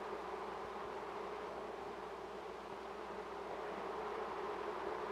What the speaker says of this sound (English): The new adult bees begin work at once.